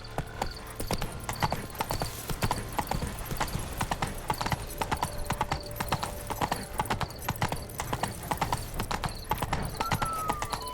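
Horse hooves clip-clop steadily at a trot in The Witcher 3, a regular rhythmic beat of hoof strikes close by, alone, with a faint tonal game sound in the background.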